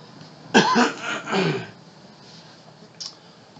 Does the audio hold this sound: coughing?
yes